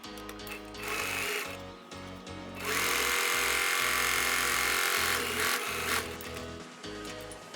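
A sewing machine stitches the bottom end of a bag's fabric lining in several close, loud runs of different lengths, separated by short pauses.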